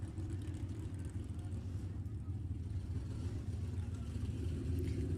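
Drag racing cars in the B-Gas finals at Sacramento Raceway roll toward the water box, a steady low engine rumble droning continuously at moderate distance.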